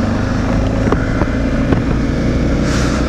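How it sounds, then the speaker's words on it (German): Motorcycle riding off, a steady loud engine drone close to the microphone with wind rushing over it, no talking. "noch eine kleine Runde aufs Motorrad und flitzen da ein bisschen"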